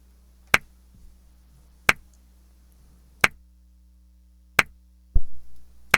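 A dry, crisp clap sample from a gospel click track hits five times at even intervals of a little over a second, each sharp and isolated over near silence, the last one followed by a brief low thump.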